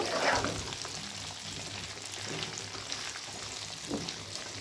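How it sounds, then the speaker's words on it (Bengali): Mango pieces fry in hot mustard oil with a dense, steady sizzle that swells loudest at the start and then settles into an even, close crackle. "এবার আমি এতে আমটা দিয়ে একটু ভাজা ভাজা করব।"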